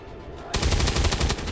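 Rapid machine-gun fire in a co-op video game erupts suddenly after a quiet moment, a loud close burst of many shots continuing to the end.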